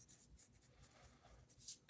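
Pencil sketching on paper while a comic character is roughed out before inking, with soft, quiet scratchy strokes repeating in short bursts and a sharper scrape at the end.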